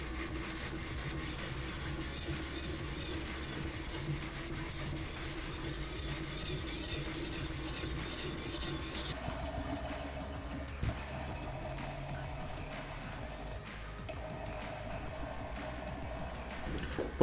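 A tanto-style tactical knife blade drawn across the coarse 50/40 grit side of a whetstone, giving a steady gritty rasping that runs continuously and close, then turns sparser and quieter with brief pauses in the latter half.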